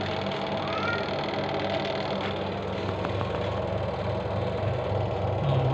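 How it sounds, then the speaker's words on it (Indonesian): The spin-dryer motor of a washing machine that will not turn, jolted into running by a tap, hums steadily and faintly with a constant droning buzz throughout. "dinamo pada bagian mesin pengeringnya berfungsi"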